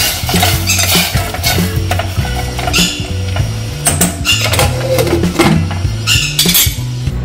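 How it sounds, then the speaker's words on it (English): Steady scraping and clinking of a utensil stirring drumsticks into boiling food in a pot, continuous and close, with faint sizzling underneath. "Okay, now we can mix it."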